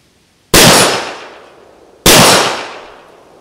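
Two loud, close gunshots from a Luger pistol fitted with a shoulder stock, each a sharp crack followed by a decaying echo, about a second and a half apart.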